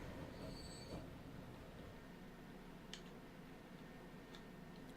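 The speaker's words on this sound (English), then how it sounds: "Here comes a train." A train rolling past in the Transport Fever railway game, a steady low rumble with faint wheel squeal and a few light clicks, moderately distant and quiet, with no talking.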